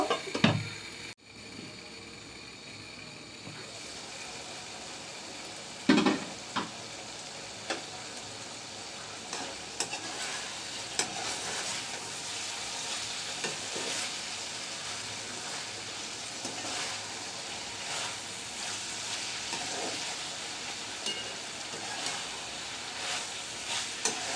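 Pumpkin and bitter gourd fry and sizzle in a pan at medium heat, a steady crackling hiss with occasional scrapes and clatters of stirring running throughout, close and fairly even.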